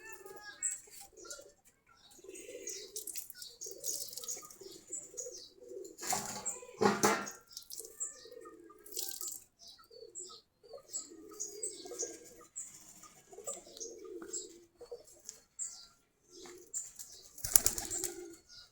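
Pet pigeons of a large breed, kept as a hobby, give low repeated coos with bursts of wing flapping and a few chirps, moderately close and without talk.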